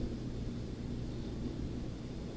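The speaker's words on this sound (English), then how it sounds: "That dishwasher's running in the back, so" A steady low broadband rumble and hiss from a dishwasher running in the background, constant and unchanging throughout, with no voices.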